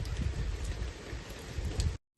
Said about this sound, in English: It's raining so hard you can't really see over there.